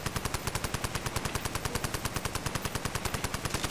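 Automatic gunfire from Call of Duty: World at War Zombies, a rapid, evenly spaced stream of machine-gun shots rattling continuously at steady volume with no talk.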